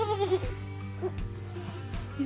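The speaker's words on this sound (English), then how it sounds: "All the goats are going crazy in the back." Several goats bleat repeatedly in a barn, loud and close, with overlapping wavering calls over a steady low hum.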